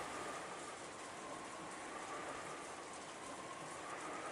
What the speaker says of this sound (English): The silence within too was filled by the sound of the wind and the rain.